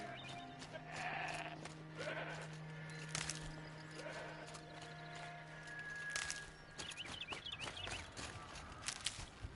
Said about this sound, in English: Another goat.